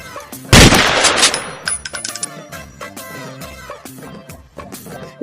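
One loud, sharp gunshot from a toy gun in a comedy skit, then a short clatter of rattling, metallic hits that fades under quieter scattered sounds.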